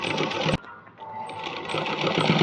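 A sewing machine stitches a blouse design, a steady close mechanical whir that breaks off sharply, goes quiet for a moment, then starts again and runs continuously to the end.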